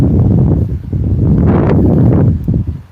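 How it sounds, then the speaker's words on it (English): Strong wind gusting outdoors at night during a northern lights watch, a loud, steady roar of buffeting air across the microphone with rustling, and no voices. "It's so windy."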